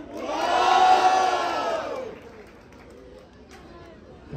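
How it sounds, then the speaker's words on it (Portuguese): A crowd at a Batalha da Leste rap battle roars and cheers loudly for a rapper for about two seconds, then the noise fades into lower scattered chatter. "Diferentemente, barulho para Small!"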